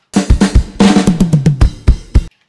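Rack tom hits during a band mix, a run of about eleven punchy strikes with pitch sliding downward across a fill, then a few spaced hits, loud and alone.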